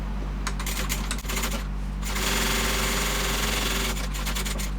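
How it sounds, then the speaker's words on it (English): Sewing machine top stitching along the top edge of a fabric bag, with short bursts of rapid mechanical stitching and a steady motor hum, close and fairly loud. "we're going to top stitch along this top edge"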